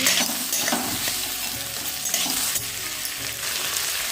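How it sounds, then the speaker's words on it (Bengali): Onion and whole cumin seeds fry in hot oil, giving a steady, close sizzle with stirring scrapes on top and no voices. "তো পেঁয়াজটা একটু লাল করে ভেজে নিই"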